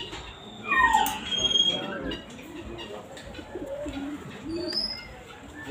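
Fantail pigeons at a bird collection in Kenya give soft repeated coos, mixed with some higher chirps from other birds nearby. Calls come in short bursts close to the listener over steady background noise.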